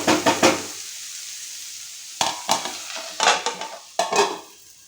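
Potatoes fry in a pan while being stirred, giving bursts of scraping and sizzle in several separate clusters with quiet gaps between them, close and moderately loud.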